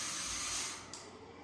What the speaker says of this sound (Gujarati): હું આની અંદર ફૂંક મારવાનો છું